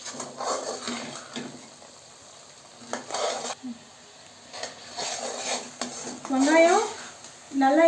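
A pan sautéing for a Tamil meen kuzhambu fish curry gives off a moderate, uneven sizzle with bursts of stirring, and a brief tonal squeal toward the end.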